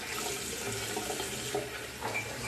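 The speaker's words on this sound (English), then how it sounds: "Some more hot water in my cup." Hot water poured from a faucet into a cup during an outdoor Arctic shave, a steady close pouring rush lasting a couple of seconds with no voices.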